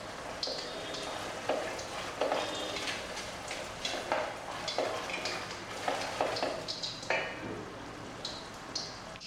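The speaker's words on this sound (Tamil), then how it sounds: "இப்போ நல்லா கொதிக்குது" A thick Mysore pak sweet mixture bubbles and pops in a pan, a steady sputter with sharper pops breaking through, close up and with no voices.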